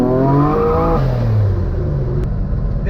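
Twin-engine Mazda MX3 race car, front and rear engines working, revving hard with rising and falling harmonic sweeps, loud and close, with a steady engine roar throughout.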